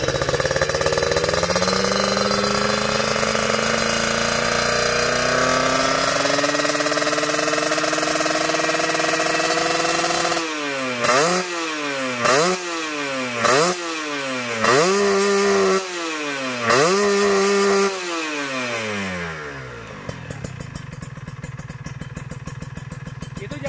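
Kawasaki Ninja two-stroke engine at high revs, screaming steadily at first and then blipped in a series of sharp rising-and-falling revs, each burst dropping back between pulls, loud and close before settling to a lighter idle.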